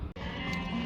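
Sheep at a Kyzylorda livestock market let out a sustained, fairly close bleat lasting under a second, standing out over a faint background of market noise.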